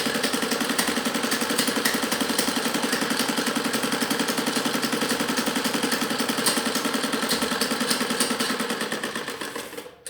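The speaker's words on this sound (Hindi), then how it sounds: "ये ऐसे ही एक पैर के दबा से नीचे सिलाई लगाएंगे।" A sewing machine stitching a salwar runs at a fast, even rattling rhythm for about ten seconds, close and steady, then slows and stops at the end.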